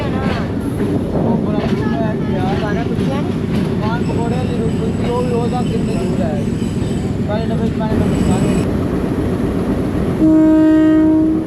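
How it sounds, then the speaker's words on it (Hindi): Departure whistle for a passenger train at Taxila Cantt junction, heard over station bustle and people talking; a loud, sustained whistle tone rises at the end. "इनिशियल डिपार्चर विसल हो गया टेक्सला कैंट जंक्शन से"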